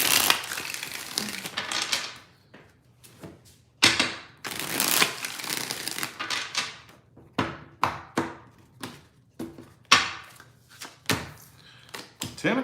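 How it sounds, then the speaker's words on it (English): Tarot cards being shuffled by hand in a series of crisp riffles and shuffles, irregular bursts with short pauses between, close and clear. "Two more shuffles."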